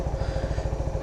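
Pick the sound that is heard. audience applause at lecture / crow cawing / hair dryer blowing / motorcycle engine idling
motorcycle engine idling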